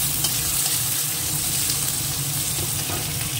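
Chopped onions frying in a pan with bay leaf, a steady loud sizzle with watery hiss throughout, close and uninterrupted, no talking.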